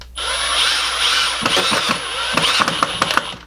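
A cordless drill drives pocket screws into a 9-inch 2x4 board for a bench, sounding as short, close whirring bursts around the middle and again near the end over steady shop hiss.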